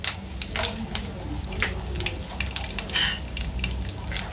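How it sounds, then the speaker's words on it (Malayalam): Mustard seeds, urad dal and chillies frying in hot coconut oil, with soft sizzling and sharp intermittent crackles and pops, close, under a faint background hum. "ഈ വെളിച്ചെണ്ണ നന്നായിട്ട് ചൂടായി വരുമ്പോൾ നമുക്ക് അതിലോട്ട് ഒരു അര ടീസ്പൂൺ കടുക് ചേർത്ത് കൊടുക്കാം"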